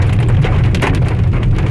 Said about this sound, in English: this cloud is what we're getting all this hail from